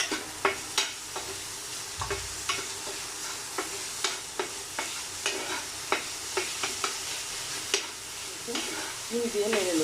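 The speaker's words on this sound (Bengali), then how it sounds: "চিনি দিয়ে একটু নেড়ে দিব।" Sugar being stirred into thickened milk in a hot pan, rhythmic scraping strokes of a spoon against the pan bottom over a gentle sizzle, close and clear, with no talking.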